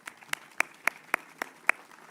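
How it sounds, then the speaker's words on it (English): Seven evenly spaced, crisp hand claps in a slow steady rhythm, fairly faint, from the audience at an outdoor Veterans Day ceremony after a high school performance, with no voices over them. "Let's give them another round of applause."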